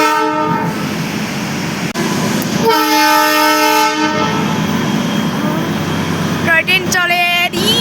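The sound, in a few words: Darjeeling toy train running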